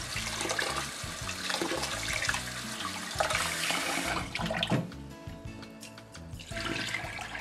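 Running water splashes and churns steadily in a pot, continuous and close, with sloshing as rice grains are rinsed.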